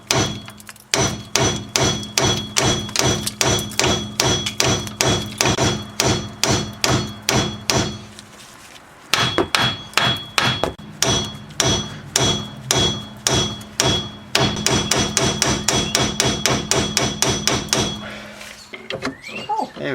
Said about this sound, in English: So I'm going to pry up and then hit it as I'm prying up.